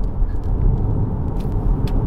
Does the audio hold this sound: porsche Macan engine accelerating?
yes